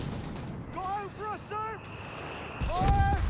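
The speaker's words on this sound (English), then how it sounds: "Mortar firing down" Mortar fire in a Company of Heroes 3 match ends in a sharp, heavy blast near the end of the clip. A commentator's voice talks over a low battle rumble before the blast.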